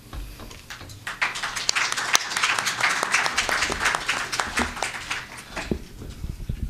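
Audience applause at a press conference in Lac-Saint-Jean on waste landfilling, as the president of the regional waste authority is introduced. Scattered claps build into a lively round with distinct sharp claps, then thin out.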